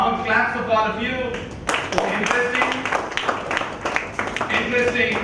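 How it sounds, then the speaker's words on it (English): An audience claps at an intra-collegiate FIC Challenge event in the ELCS Lab: a burst of scattered applause begins partway through and continues as rapid, uneven hand claps, mixed with murmuring voices. "Claps of all of you."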